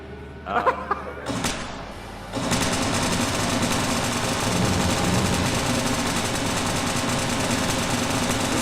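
A video game tank engine at a convention gaming booth starts with a few laughs and bumps, then kicks into a loud, continuous mechanical rattling drone that holds steady to the end.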